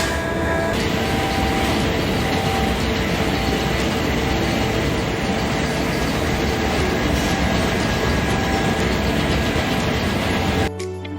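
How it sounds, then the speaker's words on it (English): A working tunnel boring machine fills the tunnel with a loud, continuous rumbling drone and grinding clatter that holds steady, then cuts off abruptly at the end. "the noises when the TBM is working is very noisy"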